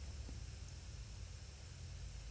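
Steady rain falls as a dense, even wash of noise, with a deep low rumble beneath, continuous and unbroken throughout, used as a visual novel sound effect.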